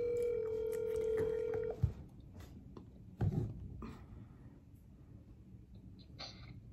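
A phone video call rings with a steady electronic tone for nearly two seconds, then cuts off, followed by faint handling noises and quiet background sounds.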